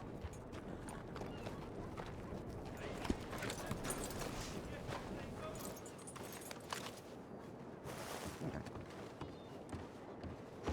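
Horse hooves clip-clop in Red Dead Redemption 2, a soft, uneven run of steps under people talking, faint and close, with a brief louder rustle partway through.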